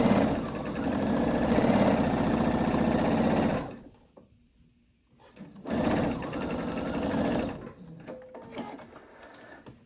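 A sewing machine stitches darts in two steady bursts of close, rapid whirring, separated by a few seconds of near silence.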